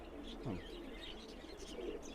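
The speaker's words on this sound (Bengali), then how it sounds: "তিনটাই নর কবুতর এখানে" Three male pigeons, two Border and one yellow-eyed Mysore, cooing close by in a low rolling call over steady background hum.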